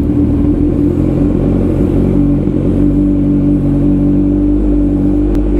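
A 1000cc motorcycle engine on a cold start, idling loud and close with a dense, steady low rumble and fast mechanical clatter, holding even throughout with no revving or talk.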